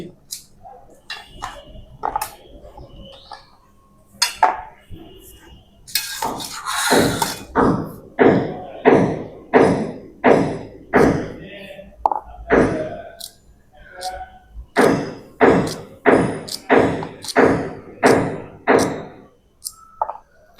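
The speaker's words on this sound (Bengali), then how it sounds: "এগুলো এখন কাটুম কেটে টেটে তারপর আপনাকে দেখাই কাটতে অনেক সময় লাগবো আগে ভেন্ডি কাটি" Okra being chopped with a knife on a cutting board in a home kitchen, a steady run of sharp, close knocks repeating roughly twice per second with brief pauses between bursts.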